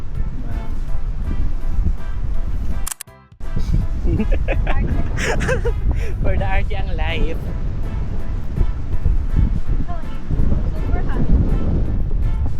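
Strong wind at Quiding Beach buffets the microphone as a steady low roar, continuing under almost constant chatty talk from a group of friends, with a brief dropout near the third second.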